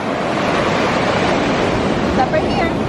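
Ocean waves on a beach wash in with a steady, broad rushing surf mixed with wind buffeting the microphone, with no clear break in the sound.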